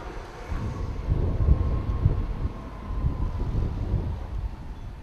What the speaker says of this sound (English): Oh my God, I remember hearing these damn trains.